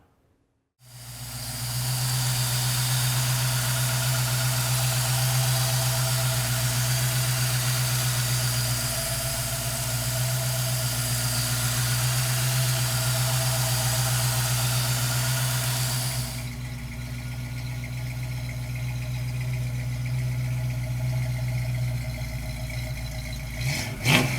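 A 1966 Ford Mustang convertible's engine cranks and catches, then settles into a loud, steady idle that runs close by with a deep, even rumble and a slight drop in level partway through.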